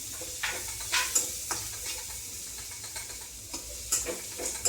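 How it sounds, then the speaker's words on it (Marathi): Wild karatule, the spiny gourd, goes into a pan of softened onion and tomato, frying with a soft sizzle under a few sharp scrapes and clacks of a stirring spoon. "कांदा टोमॅटो शिजत आला थोडा की मग ही भाजी टाकायची"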